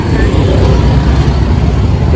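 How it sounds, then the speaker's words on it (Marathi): Steady roar of road traffic with vehicles rumbling past close by, a continuous loud engine and tire noise throughout. "त्याला गाड्या बघा रोडला किती आहेत."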